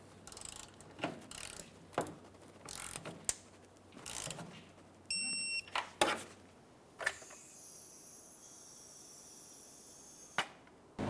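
A torque wrench clicks and ratchets in short separate bursts while tightening the fuel tank straps under a 2004-2008 Ford F-150 5.4L V8, quiet and close, with clanks and pauses between strokes.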